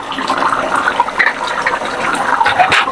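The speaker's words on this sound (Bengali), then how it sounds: "আর 1 মিনিট টকবক করে ফুটলেই আমার রান্না কমপ্লিট" A pot of food bubbles vigorously at a boil on the stove, with loud, close, continuous gurgling and popping and no voices.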